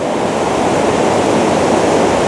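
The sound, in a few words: Cedar Falls waterfall running at high flow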